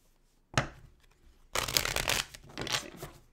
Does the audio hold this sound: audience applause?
no